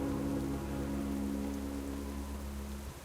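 Steady rainfall in the World of Warcraft game world, a continuous hiss of drops over a low droning ambient hum, even and unbroken throughout with no voices.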